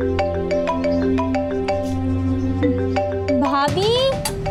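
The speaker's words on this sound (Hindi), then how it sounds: "किसी का फोन आ रहा है" A phone rings with a repeating electronic ringtone that plays steadily for several seconds over a low background hum, then cuts off abruptly into a rising tonal sound near the end.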